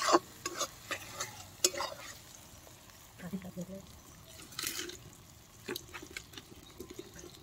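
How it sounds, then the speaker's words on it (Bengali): A spoon scrapes and clatters repeatedly against a kadai while chicken curry is stirred over a wood fire to keep it from sticking, irregular knocks over a low sizzle, with a voice talking in the background. "নাড়া দেবেন, নাহলে গায়ে লেগে যাবে কড়া, তো একটু নাড়তে থাকলে নিচে লাগবে না"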